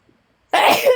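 A single loud, abrupt sneeze bursts out after a brief silence, close to the microphone.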